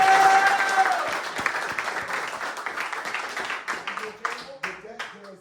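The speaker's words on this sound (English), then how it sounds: "Give yourselves a round of applause." A basketball team applauds itself after an overtime conference win, a burst of close, loud clapping that slowly thins out, with voices talking and calling out underneath as it fades.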